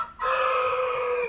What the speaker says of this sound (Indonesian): pada ayam yang sakit.